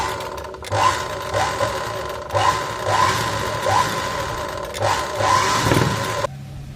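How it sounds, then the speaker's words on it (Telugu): An electric sewing machine runs from a motor foot pedal in repeated whirring bursts, the motor speeding up and easing off several times before stopping, close and fairly loud. "కింద కాలుతో ప్రెస్ చేసినప్పుడు పైన మెషిన్ రన్ అవుతుందండి"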